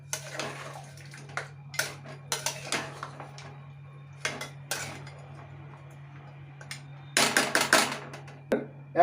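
A spoon stirs mutton curry in a pot, scraping and clinking in irregular bursts against the metal, close and fairly crisp, over a low steady hum.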